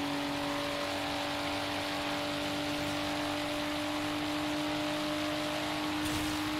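Nissan R32 engine in the racing game Forza Horizon 3, a sustained high-revving drone with steady tonal whine, heard alone and evenly loud throughout.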